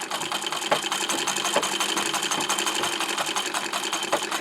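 A sewing machine with an embroidery foot running steadily while stitching around the edge of a hole to darn fabric, a fast continuous mechanical whir and rapid needle clatter, close and loud without talk.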